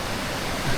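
The cold Langtang river rushes along its valley in the Himalayan trek route, a steady, dense broadband roar of flowing water close by, with no voices over it.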